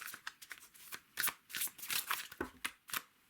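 Tarot cards are shuffled and drawn by hand at close range, a quick series of crisp riffling flicks and slaps in an uneven rhythm with no talking over them.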